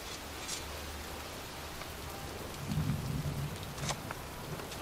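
Steady rain pours over a cemetery in the video game Heavy Rain, a dense even hiss throughout, with a low rumble of thunder swelling briefly near the middle.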